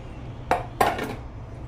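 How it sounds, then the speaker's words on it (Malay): A knife chops chilies on a cutting board, giving two sharp, close strikes, the second longer and rougher, over a low background hum. "Okey, mula-mula kita potong cili ni."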